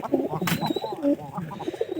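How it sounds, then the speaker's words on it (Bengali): Young pigeons coo softly at close range, a cluster of low throaty murmurs repeating in quick uneven bursts, with a faint thin tone running underneath. "তো আজকে আমরা 200 টাকা ধরে কবুতরের বাচ্চা বিক্রি করলাম।"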